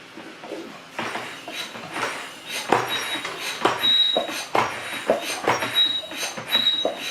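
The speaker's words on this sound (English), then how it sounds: "it takes a good probably 15 to 20 pumps on my evacuator to get it started" A manual oil evacuator pump is worked by hand to draw engine oil from an Audi S3, making repeated clanking, squeaking strokes in an irregular rhythm of about one per second, close by.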